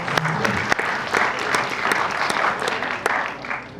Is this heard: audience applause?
yes